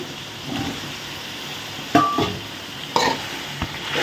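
Potatoes cut into long strips like drumsticks drop into a hot pan for a spicy tamarind curry, setting off a sizzle punctuated by a few sharp clatters as pieces land and shift; no speech.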